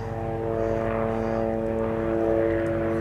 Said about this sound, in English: Planes now, really?